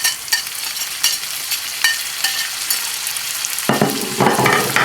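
Tomato masala for ginger egg curry, with fenugreek leaves and green chili, sizzles and is stirred in a pan over high flame; a steady fry hiss with scraping strokes grows louder and brighter near the end, with no talk.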